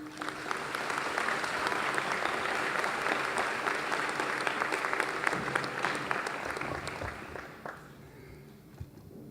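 A commencement audience claps to welcome the speaker, a dense, steady wave of applause from a large crowd that holds for several seconds and then tapers off near the end.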